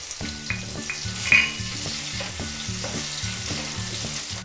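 Onion frying in leftover fish-frying oil with a bay leaf and a dried chili, a loud steady sizzle with rhythmic stirring scrapes throughout.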